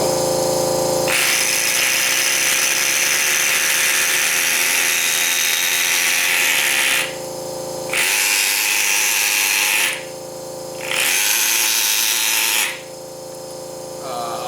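APG F2520 pneumatic engraver running in bursts: a loud, close, high-pitched buzzing hum holds for several seconds, then cuts off and restarts twice with brief quieter gaps between runs.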